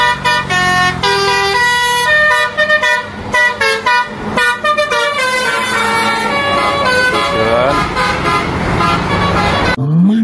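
Garuda Mas tour bus sounding a loud, musical multi-tone horn in repeated rhythmic bursts and melodic runs, close by and continuing for the full stretch before cutting off abruptly.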